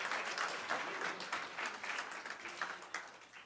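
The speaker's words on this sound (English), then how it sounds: "Yes, yes, we can applaud." Congregation applauding at a Sunday celebration service, a steady wash of many hands clapping throughout at moderate level, with faint voices mixed in.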